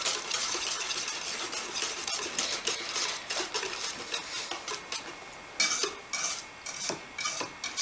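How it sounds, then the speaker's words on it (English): Lemon bar filling being whisked in a bowl, a steady rapid scraping and rasping of the whisk against the bowl that runs continuously with small surges, close and fairly loud, with no talking. "I'm going to whisk it."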